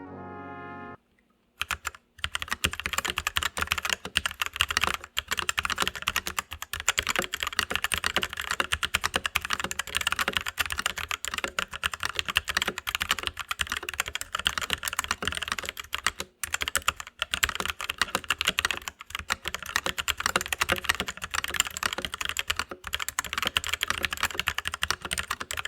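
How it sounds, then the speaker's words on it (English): Continuous rapid clacking of keys on an Ajazz K870T tenkeyless mechanical keyboard, dense and steady typing for about twenty-five seconds, close and clear with no talk. "let's take a listen to a sound test of how this keyboard sounds"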